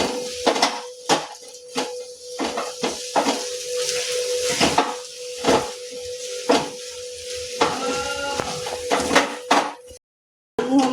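A bread pakoda mixture seasoned with salt is roasted in a pan over a gas flame, giving a steady sizzle broken by repeated sharp clinks and scrapes of stirring against the pan, close and fairly loud.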